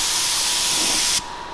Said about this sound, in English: we're just spraying this with some primer